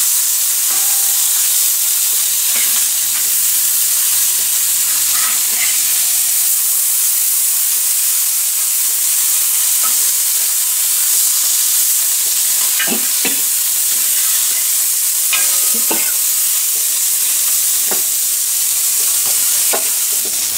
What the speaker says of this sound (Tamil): மத்தி மீன் வந்து நம்ம நல்லா சூப்பராக ஃப்ரை பண்ணி வச்சுருக்கோம்